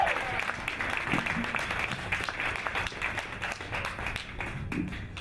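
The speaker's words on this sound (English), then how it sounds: "Clap it up for Doug Dolfman, y'all" A comedy club audience breaks into lively clapping and cheering for a comedian taking the stage, a busy wash of hands with crowd noise mixed in.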